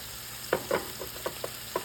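Garlic added to shallots frying in a pan, giving soft sizzling with a series of short stirring scrapes spaced across a moment, close and moderately quiet with no talking.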